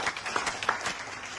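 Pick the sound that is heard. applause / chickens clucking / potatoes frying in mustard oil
applause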